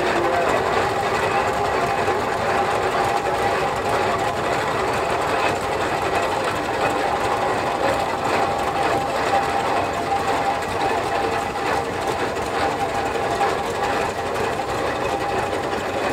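A 1920 Advanced Rumley 25-90 tractor engine runs steadily at a threshing show parade, its dense mechanical clatter continuous and fairly close, with no talk over it.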